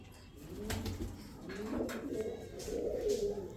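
A female pigeon coos in low, throaty repeated calls at close range, rising and falling in soft rolling phrases over a quiet background.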